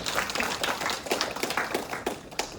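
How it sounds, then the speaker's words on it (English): An audience at a three-minute thesis competition claps in a dense, fairly quiet round of applause, steady for a few seconds without voices. "can we have a huge round of applause for all of you for showing up and supporting our project"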